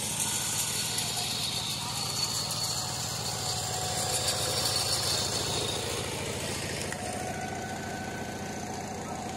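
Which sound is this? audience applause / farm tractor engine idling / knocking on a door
farm tractor engine idling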